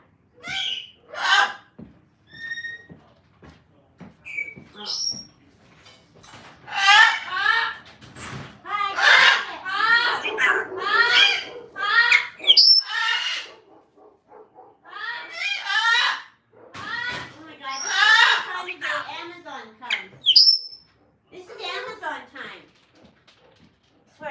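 Sharp, high cockatoo squawks and chirps burst out repeatedly amid ongoing talking, some calls loud and close, others brief and clipped.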